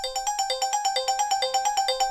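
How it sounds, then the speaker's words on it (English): Plucky synth arpeggio from the OPX organic marimba preset on an Akai Force, fast evenly repeating bright notes in a steady rhythm, close and alone. "So the first really big difference is the plucky arp."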